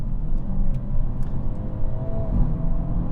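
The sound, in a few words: Hyundai Elantra N 2-liter engine running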